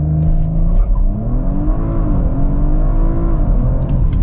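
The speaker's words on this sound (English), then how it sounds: "The noise from that engine is delicious. It's got a really nice purr to it." A 2020 Audi RS4 Avant with its V6 engine accelerating hard, heard from inside the car as a loud, steady engine roar with rising pitch through the gears for about four seconds, no talking.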